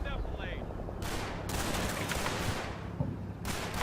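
Machine gun fire in the WWII tactical video game Combat Mission: Battle for Normandy, loud dense bursts of rattling gunfire and battle noise filling the whole stretch, with a few sharper reports standing out.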